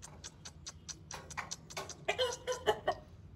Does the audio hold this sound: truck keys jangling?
no